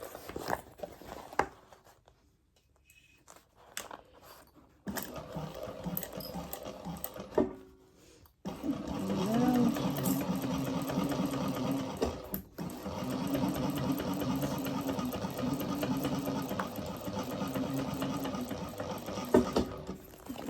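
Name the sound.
sewing machine stitching around corners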